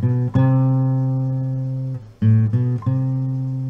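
An electric guitar plays a sustained riff with hammer-on notes from Candlebox's Far Behind, ringing chords with a few quick note changes, close and fairly loud, alone.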